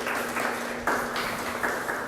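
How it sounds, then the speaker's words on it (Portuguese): A church audience claps steadily in dense, continuous applause, loud and close, for the whole short stretch. "vamos agradecer com uma salva de palmas."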